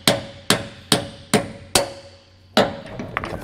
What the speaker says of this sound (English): This one you are gonna have to hammer out.